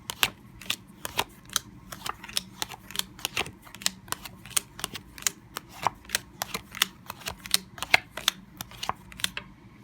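Tarot cards are cut and laid out on a table in a run of crisp, quiet snaps and taps, each card landing separately at an uneven but steady pace.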